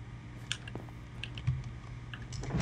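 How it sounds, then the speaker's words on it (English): Soft, quick keyboard typing close to the mic, irregular key taps over a low hum. "I can hear your keyboard"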